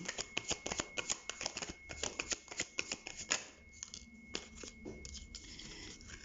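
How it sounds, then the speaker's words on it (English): Tarot cards being shuffled by hand, a close, crisp run of rapid riffling clicks and papery slaps that thins into softer, scattered shuffling after a few seconds, with no voices. "Start shuffling."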